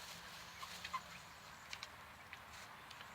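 Chickens scratch around inside a hoop house bedded with hay, giving faint, scattered clucks and small rustles over a low, steady background hum.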